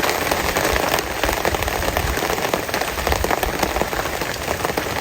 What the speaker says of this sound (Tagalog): May ulan pa